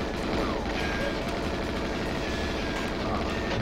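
Dense rapid gunfire in the GoldenEye N64 video game runs continuously and loudly, with rattling automatic fire throughout.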